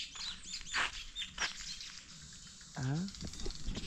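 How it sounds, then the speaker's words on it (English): Birds chirp outdoors at a home in Kenya, with a few short, faint, sharp calls spread through quiet ambience, and a person speaks briefly partway through. "There's some birds here."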